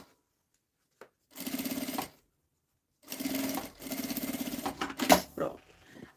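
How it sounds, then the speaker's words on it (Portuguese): A sewing machine stitches fabric lining in three close bursts, pausing between runs as the cloth is adjusted, with a faint voice briefly heard near the end. "Vou costurando um pouquinho, paro, ajeito aqui o tecido do forro"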